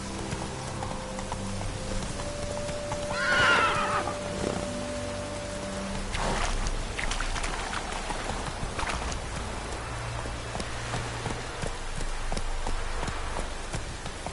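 Galloping horse named Roach in a rainy video game landscape, a steady clip-clop of hooves running under falling rain, with a brief brighter tone near the start.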